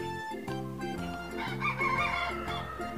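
A rooster crows loudly and close, with hens clucking in the mix, the calls overlapping in a busy farmyard chorus.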